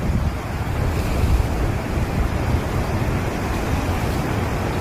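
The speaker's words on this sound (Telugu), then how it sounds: "అలలు చూసారా ఫ్రెండ్స్ ఎంతగానో వస్తున్నాయో" Floodwater of the swollen Musi river at Amberpet rushes past a bridge in a loud, continuous roar of churning waves, with heavy wind buffeting the microphone throughout.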